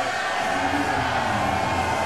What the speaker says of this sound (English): You hear the crowd erupt there for the champ.